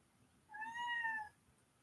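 A cat cries at a door, one clear drawn-out meow rising and falling, close and alone in a quiet room.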